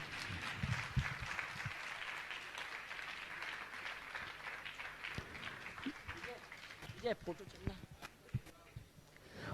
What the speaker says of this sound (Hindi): जोरदार तालियां बजाएं, आपकी तालियां बहुत कम बजती हैं।